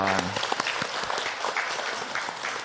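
A church congregation at a Sunday worship service claps together in a loud, dense and continuous wash of applause lasting a few seconds, with a brief held tone at the very start.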